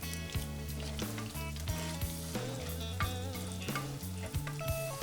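Breakfast sausage for Nigerian fried rice fries on the fire with a steady, close sizzle and crackle that holds throughout, while music plays underneath and nobody speaks.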